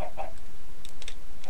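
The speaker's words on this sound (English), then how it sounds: "I will put some chickens" Minecraft chickens kept in a pen give a few short, soft clucks, with small sharp clicking taps alongside against a steady low background hum.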